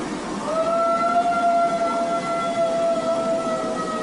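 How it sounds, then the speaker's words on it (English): An old dog howls at night, a long wavering, sustained tone rising and holding over several seconds against a hissing outdoor background. "so I'm wondering if this was just a really old dog trying to howl."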